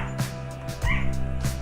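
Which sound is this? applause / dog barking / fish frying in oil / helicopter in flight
dog barking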